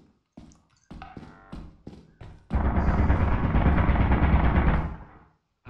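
Turrets in Lethal Company opening fire: several sharp separate shots at first, then a loud sustained burst of rapid automatic gunfire lasting a few seconds before it cuts off.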